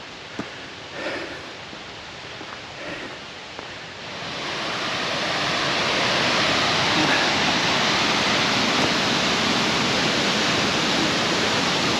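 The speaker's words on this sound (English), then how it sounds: "So this is the river that comes out the loch," Arklet Water, the river flowing out of Loch Arklet in the Trossachs near Inversnaid, rushes as a steady broadband roar that swells from a faint hiss to a loud, continuous torrent, with a few light knocks early on.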